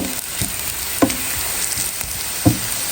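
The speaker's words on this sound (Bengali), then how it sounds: "এখানে পেঁয়াজগুলো ভাইজে নিতেছি গোল্ডেন কালার করে" Onions fry in a pan until golden, a soft continuous sizzle close by, punctuated by a few sharp clinks and scrapes of stirring at irregular intervals.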